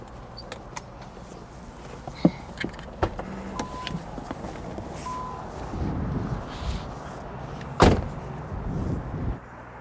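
A car door opens and later thumps shut as a motorist steps out during a traffic stop, with faint clicks and rustling, a few quiet knocks and soft engine hum underneath.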